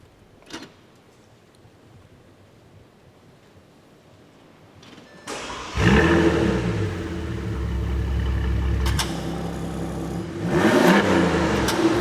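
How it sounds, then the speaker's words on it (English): A 2016 Bentley Continental GTC convertible sits quiet for several seconds, then its engine fires up loud and close, settles into a deep steady idle, and swells in a sharp rev near the end. "let's fire up the engine"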